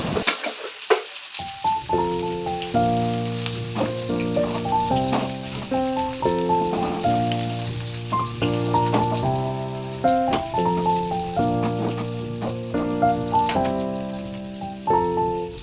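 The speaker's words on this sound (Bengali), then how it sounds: "আলুগুলো আমি একে ছেড়ে দেবো, ছেড়ে দিয়ে আলুগুলো ভালোভাবে নেড়ে চেড়ে আমি আলুগুলো ভেজে নেবো" Potatoes sizzle and crackle steadily in hot oil in a home kitchen while a melodic music track plays over the frying throughout.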